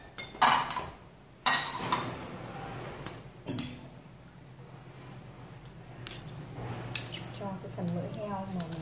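A frying pan is set onto a home kitchen stove, giving a couple of sharp metallic clanks near the start, followed by a few softer knocks and light scraping of cookware, with quiet room noise in between.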